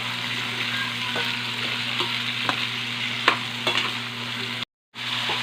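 Bitter gourd (ampalaya) fries in a pan with a steady, bright sizzle and occasional stirring scrapes, the sound breaking off briefly near the end before resuming.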